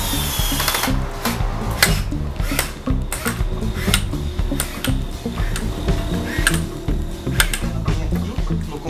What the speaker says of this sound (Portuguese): Vou colocar todos esses parafusos até o final lá.